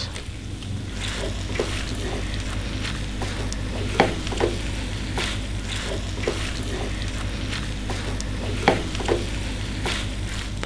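Steamed tapioca tofu (tahu gemoy) sizzling and frying in a pan, a steady dense crackle with occasional sharper pops and stirring clatters, no talking.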